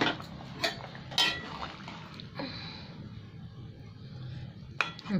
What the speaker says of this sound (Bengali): এবার আমি ঢাকাটা খুলে দিচ্ছি, আলুটা সেদ্ধ হয়েছে কিনা।